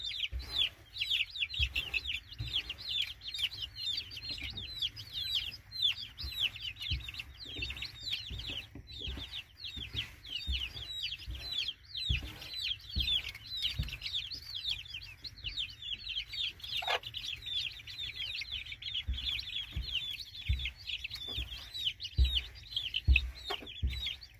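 Young chicks peep in a dense, continuous high chatter while hens cluck steadily underneath, the birds crowding around feed on a farm, with soft pecking and shuffling close by throughout.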